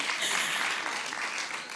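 Audience applause at a youth leadership talk, a steady dense wash of many hands clapping throughout, fairly loud and continuous with no talk over it.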